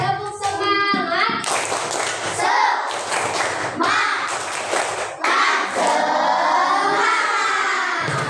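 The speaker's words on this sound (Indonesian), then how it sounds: "Kita tepuk semangat dulu" A classroom of students does a rhythmic clapping chant, with bursts of clapping and thumps mixed with shouted voices in a patterned beat.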